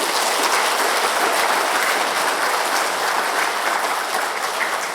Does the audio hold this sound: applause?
yes